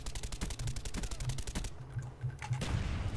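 Rapid automatic gunfire from the PC game Call of Duty: Black Ops, a fast even stream of loud shots for about a second and a half, then a brief lull before more shooting and clatter resumes.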